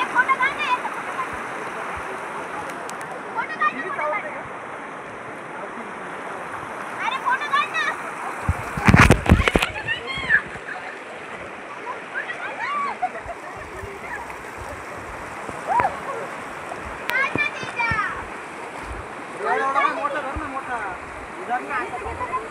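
Water splashes in a stream being crossed on foot on the way to Pahina waterfall, with one loud, close burst of splashing in the middle. Constant running water sits under talk from several people.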